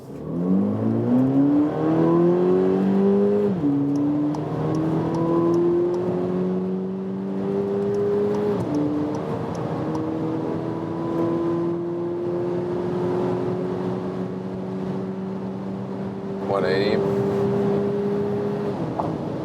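A 2022 VW Polo GTI pulls hard from a rolling start on a German Autobahn, its engine rising steadily in pitch through several gearshifts, loud and close inside the cabin with a constant whir.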